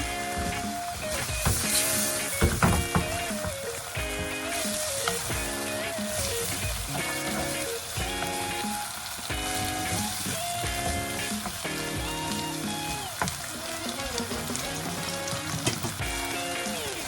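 Shiitake mushroom soaking liquid hits a hot pan in a vegetarian stir-fry, setting off a loud, steady sizzle and crackle, with utensils clattering through it; no one talks.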